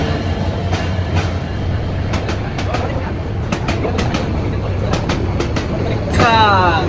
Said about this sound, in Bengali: ট্রেনটি প্ল্যাটফর্মে এসে পৌঁছায়